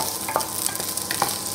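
Ginger and onion stir-fried in oil in a pan, with a steady, close sizzle broken by several quick scraping strokes as the ingredients are turned, and no voices.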